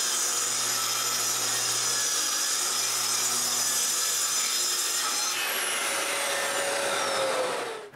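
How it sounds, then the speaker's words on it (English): A saw cuts through a full sheet of plywood down to size, a continuous close grinding whine that holds steady and then shifts pitch partway through as the blade works along the board. "I take a full sheet of plywood and cut it to the size of the top."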